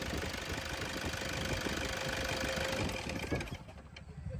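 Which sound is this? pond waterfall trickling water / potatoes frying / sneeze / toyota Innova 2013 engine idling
toyota Innova 2013 engine idling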